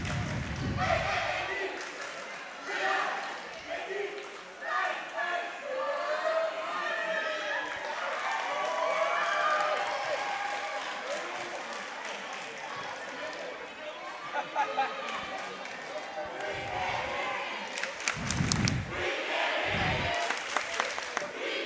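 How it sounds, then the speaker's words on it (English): A crowd at a boys' varsity basketball game in a school gym keeps up a steady murmur of chatter and calls, with a voice talking over it and short bursts of clapping and cheering near the end. "As we listen to the crowd bantering back and forth."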